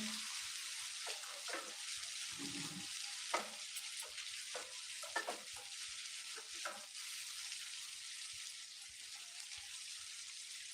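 Tomatoes fry with ginger paste in a pan, giving a soft, continuous sizzle with occasional stirring scrapes and pops, heard close and alone.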